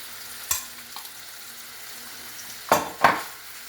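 Potatoes go into a pan of browning smoked sausages frying over medium heat, a low steady sizzle punctuated by a few sharp clatters of food and utensil against the pan, with two louder crackling bursts near the end.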